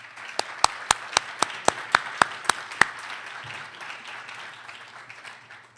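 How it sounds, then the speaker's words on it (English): Sharp hand claps ring out in a steady, evenly spaced rhythm, about ten in a row, then stop, leaving a faint room murmur. "please, for a round of applause for our provost"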